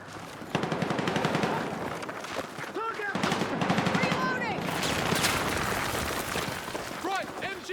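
Battlefield 6 campaign firefight with loud sustained machine gun bursts and scattered gunshots, dense and close, while soldiers' shouted voices and radio calls cut in over the combat.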